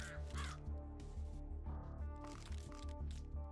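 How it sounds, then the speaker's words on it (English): Crows cawing in the Death Must Die video game, several harsh caws in quick bursts over a low, pulsing game backdrop with tonal music, near and fairly loud. "Go my freebie of a crow."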